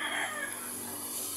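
A rooster crows at a distance, faint and drawn out, with other chickens faintly in the background.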